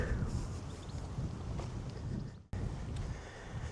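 Strong wind on open moorland buffeting the microphone in a continuous low rumble, with one brief dropout midway and no voices.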